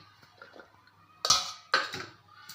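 Two sharp clatters of chopped onion dropping into a metal bowl, close and fairly loud, with faint kitchen rustling before them.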